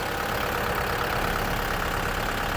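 A Kubota MU5702 tractor diesel engine runs steadily at idle, a loud, constant close-up drone with no breaks or talk.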